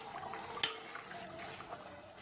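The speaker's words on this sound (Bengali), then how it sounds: "এখন আমি একটু নাড়াচাড়া দিয়ে নিব।" Fish curry gravy is stirred in a pan over low heat: faint, wet, liquid swishing and gentle bubbling, with one sharp utensil click against the pan, quiet and close with no talking.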